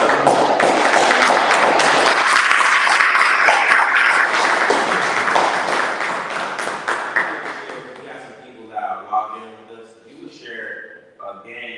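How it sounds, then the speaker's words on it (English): An audience claps for the panelists at a Men's Month event, a loud dense wash of applause lasting several seconds. It fades out and a voice begins talking. "I want to ask my audience to give our panelists a round of applause"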